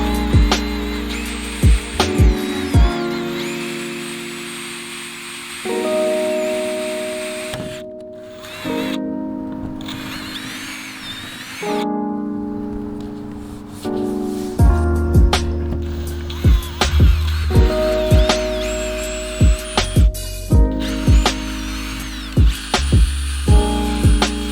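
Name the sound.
power drill drilling hole in hardtop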